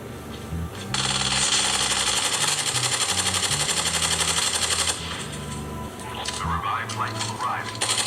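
In Apex Legends Battle Royale played on a Redmi Note 10S, rapid automatic gunfire rattles in quick bursts, mixed with other game sounds and a talking voice.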